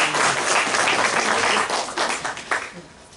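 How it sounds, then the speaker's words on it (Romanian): Audience applause in a hall honouring an elderly professor at a tribute event in Suceava, a dense wash of clapping that fades toward the end, with voices mixed in. "pe care vă rog să-l aplaudăm"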